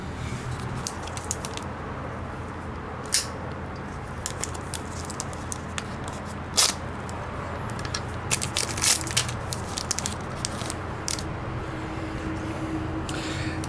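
Scattered metallic clicks and ratcheting taps while an oil pan drain bolt with a new crush washer is threaded and tightened on a Toyota 86 during an oil change; close, irregular bursts with no talking.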